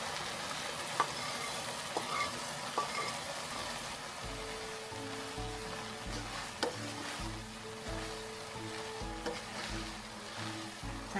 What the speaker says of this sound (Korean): 물이 바글바글 끓으면 여기에 멸치 넣어주세요.